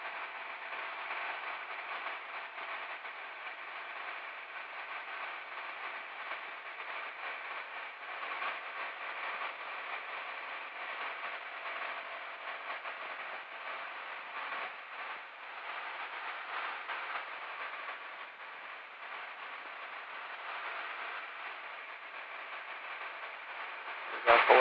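A light aircraft engine in a cruise climb gives a constant, muffled droning hum with hiss, steady and unbroken as if heard through a cockpit headset, fairly faint overall.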